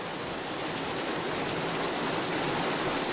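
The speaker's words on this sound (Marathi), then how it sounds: "आता संध्याकाळी पुन्हा एकदा पावसाला सुरुवात झाली आहे" Heavy evening rain in Kalyan city, a dense, steady hiss of downpour on surfaces, loud and unbroken with no voices.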